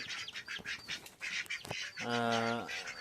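A farm duck quacks loudly and close in a harmonic burst near the end, after softer bird calls and chatter from other fowl nearby.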